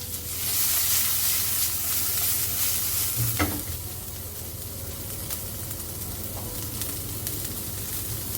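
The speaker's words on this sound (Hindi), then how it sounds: "अब जैसे ही गार्लिक ब्राउन हो उसी टाइम सब्जियां इसमें आ जाएंगी" Capsicum, carrot, spring onion and cabbage shreds stir-fry with garlic and chilies in a very hot pan over a high flame, giving a steady close sizzle and frying hiss with a brief clatter of stirring.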